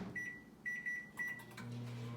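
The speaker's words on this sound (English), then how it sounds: "I'm going to put that in the microwave, get that going" A microwave oven is being set in a kitchen: a few short, high keypad beeps, then the low steady hum of the oven starting to run, heard close with no talking.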